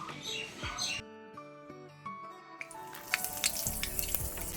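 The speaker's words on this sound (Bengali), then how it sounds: "প্রথমে কিছুটা শাক ভাজতে বসিয়ে দিলাম" Leafy greens frying in oil in a pan give a broadband sizzle at the start and again from the middle to the end, with a stretch of steady tones in between.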